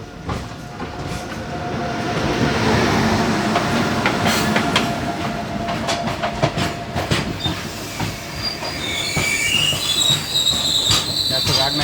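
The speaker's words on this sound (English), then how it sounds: "That's a Wagner halt freighter heading towards Shore North." A freight train rumbles past nearby on a railway line in India, wheels clattering rhythmically over the rails, building in loudness, with high metallic squeals toward the end.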